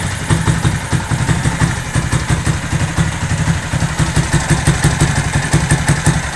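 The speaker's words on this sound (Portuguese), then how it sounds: "O motor já está funcionando, viu? O barulho é do escape mesmo," A small generator engine, without a throttle fitted, idles steadily with a loud, rattling exhaust leaking at its base, its rapid pulsing chug continuing without pause and no talking.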